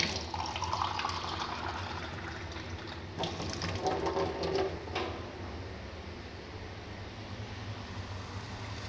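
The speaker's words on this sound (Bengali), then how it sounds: "আর একটু পানি দিয়ে পানি দেবো।" Water is poured into a pan of fish curry on the stove, a brief splashing pour over a low, steady kitchen background with no talking.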